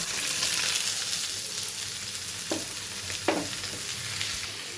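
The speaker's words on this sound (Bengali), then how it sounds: "পেঁয়াজটা আমি ব্রাউন কালার করে ভেজে নেব।" Onions fry in hot oil for a beef curry, a bright continuous sizzle heard up close, with a couple of sharp spoon scrapes against the pan partway through and no talking.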